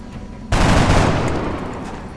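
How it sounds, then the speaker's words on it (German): Gunfire in the video game XCOM: Enemy Unknown erupts suddenly as a loud sustained burst of shots after a short quieter stretch of game ambience, then rings on and fades slightly. "Schuss hat nicht gesessen."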